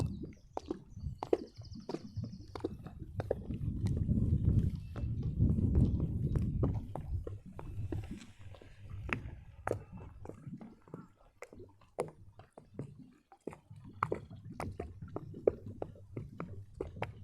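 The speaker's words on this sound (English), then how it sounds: "mostly what you can hear is the glucking sound of the water slapping the holes on the boats" Water slaps and gurgles against boat hulls in irregular, hollow knocks and glugs, close by and fairly quiet, with a low rumbling swell at times.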